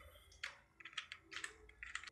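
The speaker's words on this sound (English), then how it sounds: "So I'm typing first" Quiet, close computer keyboard typing in irregular bursts of soft clicking keystrokes, with no voice over it.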